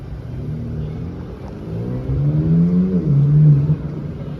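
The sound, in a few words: Chevrolet Corvette C7 engine starting and revving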